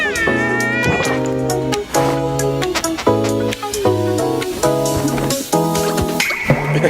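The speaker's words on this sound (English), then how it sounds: "A cat." Loud, drawn-out cat meows from a video game repeat one after another in a steady rhythm, tonal and close, with no other sounds.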